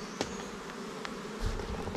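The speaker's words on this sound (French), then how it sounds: "là c'est impressionnant, c'est une autoroute d'abeilles" Honeybees streaming busily in and out of hive entrances at an apiary, a steady close insect hum and buzz with brief louder passes of individual bees.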